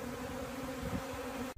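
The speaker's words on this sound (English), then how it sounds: "Are you guys used to being in a swarm of bees?" A swarm of bees buzzes steadily and densely nearby, a continuous droning hum of many insects at moderate volume, cutting off abruptly at the end.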